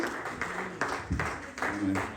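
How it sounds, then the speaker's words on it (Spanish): A church congregation applauding, with fairly close, rhythmic clapping in uneven bursts, mixed with voices talking and calling out over it. "Denle un aplauso al Señor"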